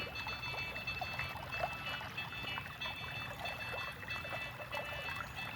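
Water trickles and pours steadily from a drain, a soft continuous flow with small splashes, fairly quiet and heard on its own.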